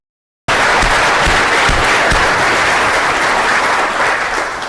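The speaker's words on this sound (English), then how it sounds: "Let's give him a round of applause." Loud, dense applause erupts after a brief silence at a university budget town hall meeting, a continuous crowd clapping that holds steady throughout.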